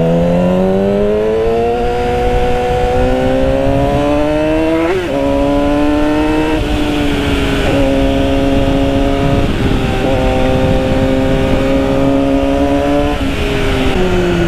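A 2008 Yamaha R6 motorcycle engine pulls hard through the mid-range, a loud, steady revving whine climbing in pitch with a brief dip near the middle before rising again, with no talking over it.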